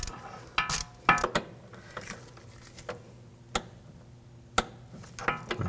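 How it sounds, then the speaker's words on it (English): A torque wrench tightens a front brake hose on a 2001-2009 Volvo S60 to 10 foot-pounds: sharp, close metallic clicks and ticks come at irregular intervals over a quiet workshop background. "Now you want to torque this, if you can get a torque wrench in there, to 10 foot-pounds"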